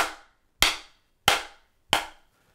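Three sharp rim shots struck near the edge of an RCP Drum Company active snare pad, each a crisp, loud crack with a short decaying ring, spaced evenly about two-thirds of a second apart with silence between.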